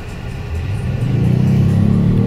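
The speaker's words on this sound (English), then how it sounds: "of course you can hear the engine sound" A Kia Stinger GT2 with the 3.3-litre twin-turbo engine pulls hard under acceleration, its close, loud engine note building into a deep, steady rumble and roar heard from inside the car.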